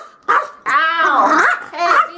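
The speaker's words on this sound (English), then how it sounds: "And you hear Tanner barking." A pet dog barks and yips at close range: a short bark, then a longer drawn-out whining bark, then another bark, loud and alone with no talk.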